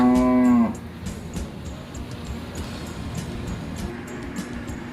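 Crossbred and native calves on a farm, one loud, clear moo in the opening moment, then only quiet farmyard ambience with faint background noise for the rest.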